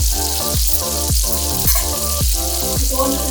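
Cumin seeds sizzle and crackle steadily in hot oil and melted butter for a Kolhapuri vegetable curry, a loud continuous fry with regular bursts of popping throughout.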